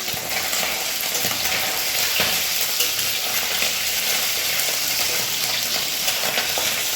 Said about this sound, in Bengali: আমি এখানে মোড়া মাছ ভাজাটা বসিয়েছি